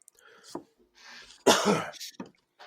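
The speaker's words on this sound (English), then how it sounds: "Yeah, baby, there's that cough." A harsh, loud cough bursts out midway, followed by a smaller one, with quiet murmuring and throat noises around it.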